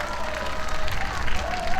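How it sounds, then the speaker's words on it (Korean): A crowd claps and murmurs at an outdoor presidential election campaign rally at Bongeunsa Station near COEX in Gangnam, the applause moderate and fluctuating, with a faint tone and background chatter mixed in. "큰 박수 다시 한번 부탁드리겠습니다."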